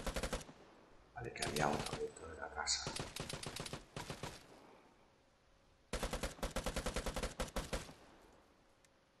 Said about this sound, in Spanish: Te están disparando a ti, ¿no?